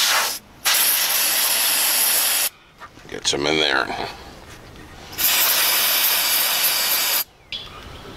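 Electrical contact cleaner sprayed onto corroded car battery terminals on a Chevy K5 Blazer, in several loud, steady hissing bursts separated by brief pauses, with a short spoken remark and some handling noise between sprays.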